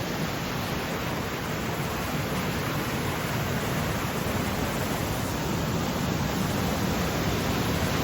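A rain-swollen burn cascades through a rhododendron gorge, a loud, steady, broadband roar of rushing water filling the scene without pause.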